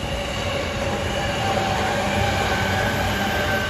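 A train rumbles past close by in Fujisawa, Japan, during evening rush hour, a steady, loud roar of rolling wheels and rail noise with faint metallic squeal throughout.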